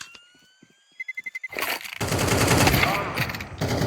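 Gunfire in an esports shooter match: a quick burst of sharp rapid shots, then sustained heavy weapon fire and explosive crackle, loud and close, with faint game sounds beforehand.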